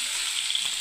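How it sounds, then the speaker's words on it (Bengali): Potato and carrot pieces frying in hot oil, a steady bright sizzle that holds at an even, fairly loud level close by, with a couple of small pops and stirring sounds near the end. "তেল আমার গরম হয়ে গেছে। এবার আমি আলুটাকে গাজরটাকে ছেড়ে দিচ্ছি বন্ধুরা।"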